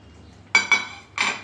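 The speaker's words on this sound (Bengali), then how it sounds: "আমাদের মাছের গ্রেভিটা ফুটে গেছে ভালোভাবে। এবার আমি মাছগুলো এর মধ্যে দিয়ে দিচ্ছি।" Pieces of fried fish go into boiling gravy for mouri katla, giving three short clattering bursts of metal and pan contact, close and fairly loud, with quiet pauses between them.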